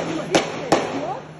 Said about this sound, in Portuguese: mostra um tiroteio entre os criminosos e a polícia